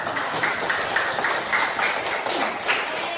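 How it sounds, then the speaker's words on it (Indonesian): Classroom of students clapping hands together in a coordinated clapping routine, a steady wash of many hands with faint rhythmic accents, continuous and fairly loud without speech. "Oke, tepuk tangan"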